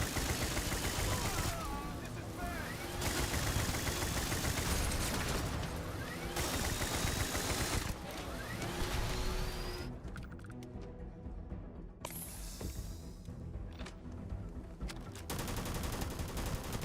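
Sustained gunfire in Starfield, dense rapid bursts of automatic shots with brief pauses between volleys, loud and close, with a voice speaking occasionally underneath.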